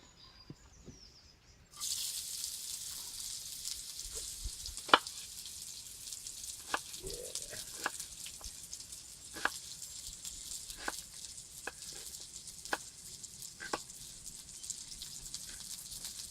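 Onions sizzle steadily in a frying pan, a bright continuous hiss that starts abruptly after a brief quiet moment and carries scattered sharp pops and crackles throughout, with no talking.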